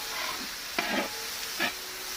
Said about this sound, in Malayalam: സവാള ഒന്ന് വാടാൻ വേണ്ടി നമ്മൾ ഇതിനകത്ത് ഉപ്പ് ചേർത്ത് കൊടുത്തിട്ടുണ്ട് നന്നായിട്ട് ഇളക്കി